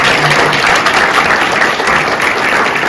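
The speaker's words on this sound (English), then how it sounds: "give everybody a round of applause" Audience at a university business plan competition breaks into loud, dense applause that fills the whole short stretch, many hands clapping at once.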